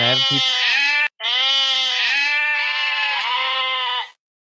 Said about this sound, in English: There's a bunch of goats.